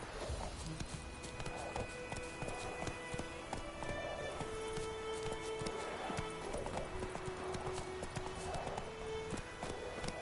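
A horse gallops in The Witcher 3 video game, with fast, steady hoof clip-clops and occasional snorting and whinny-like calls over a dense background of game sound.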